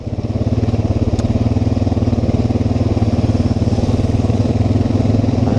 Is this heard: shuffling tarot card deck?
no